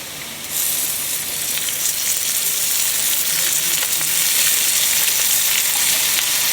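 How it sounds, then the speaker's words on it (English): About a cup of cleaned rice fries in algae oil in a hot pan, giving a loud, steady, close sizzle and hiss that begins abruptly and continues without a break. "what we're gonna do is toss our rice in here. Cleaned rice, about a cup of rice, with some oil"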